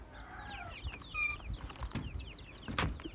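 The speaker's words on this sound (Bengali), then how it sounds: "আরে তো দেশি মুরগি সব।" Native backyard chickens (desi hens) clucking and calling close by, a scatter of short overlapping bird calls with one louder squawk near the end, over a steady outdoor background with no talking.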